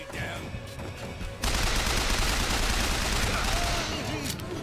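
A full magazine emptied in BioShock Infinite: sustained, dense automatic gunfire roars continuously from about a second and a half in, loud and unbroken through to the end.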